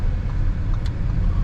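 A 2024 Audi RS3 cruising on the road gives a steady, low engine and road rumble from inside the car, even and unbroken, with no talk.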